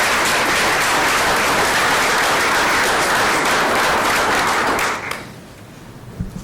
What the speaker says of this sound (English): We have another round of applause to thank everyone for that.